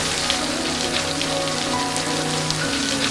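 Heavy rain in a film scene pours down steadily, a dense, loud hiss of drops hitting surfaces throughout with no pauses, close and enveloping, with no voices.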